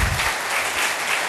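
A conference audience claps steadily, a dense burst of applause filling the short moment.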